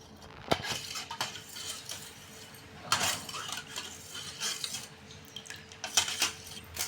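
Spoon stirring milk in a metal bowl while making panchamrutham, with repeated sharp clinks and scrapes against the bowl, a few louder knocks, and faint watery swishing between them.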